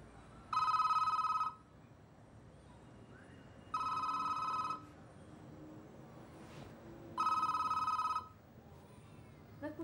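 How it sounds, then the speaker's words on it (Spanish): An indoor telephone bell rings three times in even, evenly spaced bursts, clear and fairly near over a quiet room hum. "¿No escuchás que suena el teléfono?"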